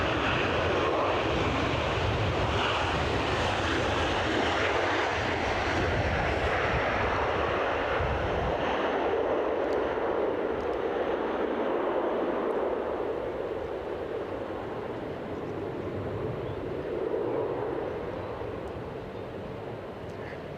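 An airliner at Edinburgh Airport in gusty wind gives a broad, roaring engine wash that stays strong and sustained, then slowly eases toward the end.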